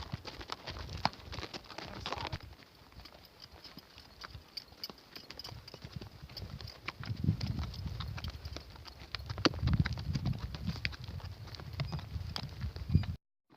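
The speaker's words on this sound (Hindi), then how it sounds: "ये मेरा घोड़ा है" Horse hooves clip-clop steadily on a mountain trail near the Afghan border as the rider moves along, a close, continuous rhythmic patter of footfalls with no talk.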